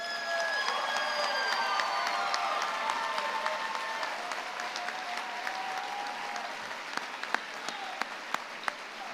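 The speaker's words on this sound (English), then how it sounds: "Let's have a round of applause for our graduates." Sustained applause from a large crowd for graduates at a college commencement, a broad steady roar of clapping with scattered cheers and a few sharper claps standing out near the end.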